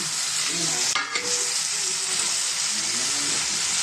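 Chicken pieces frying in a pan with turmeric, coriander leaves and curry leaves give a loud, continuous hiss and sizzle, with a brief stirring scrape near the start, close up and without voices.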